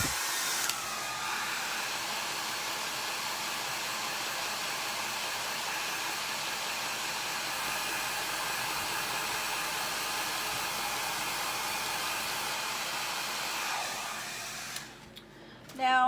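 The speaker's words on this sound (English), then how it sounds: "let me dry that real quick." A hair dryer blows steadily on freshly inked Chalk Couture design on a shirt, a loud continuous whooshing hiss lasting about fourteen seconds before it switches off with a brief clunk.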